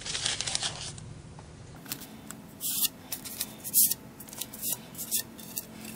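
Painter's tape torn off the roll and pressed onto a pipe, a few quick ripping and crinkling bursts spaced across the moment with faint room noise between them.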